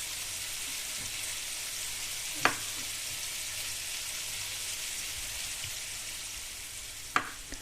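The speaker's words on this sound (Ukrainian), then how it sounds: "Кладу на сковорідку і вони обсмажуються." Halved small mushrooms fry in a hot pan with a steady, even sizzle, broken by two brief clicks of a utensil against the pan, in a home kitchen.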